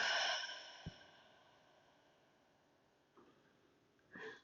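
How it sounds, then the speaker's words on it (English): A slow, deep exhale during a guided relaxation breathing exercise, a soft breathy sigh fading out over a few seconds, followed later by a couple of quieter breaths, close and alone without talk. "Inhale at the top and exhale."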